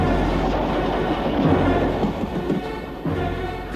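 A train rolls across a bridge in a children's TV show, a continuous loud rumbling clatter of wheels that swells slightly midway and carries on without any voices.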